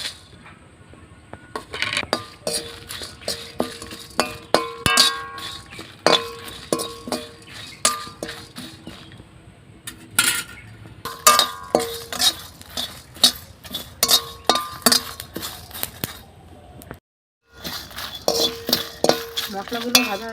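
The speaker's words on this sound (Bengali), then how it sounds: "মশলাগুলো ভাজা হয়ে গেছে, নাড়িয়ে নিচ্ছি।" Whole dried red chillies, cumin, coriander seeds and torn bay leaf frying in a pan, stirred with a utensil: repeated close metallic clinks and scrapes in irregular bursts, no talk, with a short pause near the end.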